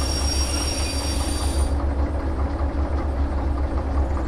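Locomotive from the Derail Valley train simulator rumbling steadily along the rails, a loud continuous low drone with wheel noise and a faint high squeal that fades out partway through, no talk.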